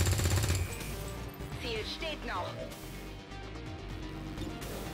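Rapid bursts of automatic gunfire from the video game XCOM 2 rattle loudly at the start, then give way to crashing and whooshing game effects under a steady bed of mechanical noise.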